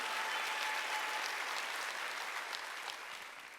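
Sustained applause from a church congregation during a Sunday service, many hands clapping together in a dense, steady patter that fades slightly toward the end.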